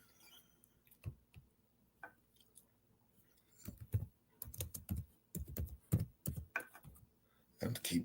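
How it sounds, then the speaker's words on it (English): Typing on a loud computer keyboard, close up, with sparse single key clicks that build into quick clattering bursts of keystrokes. "And the keyboard loud as hell."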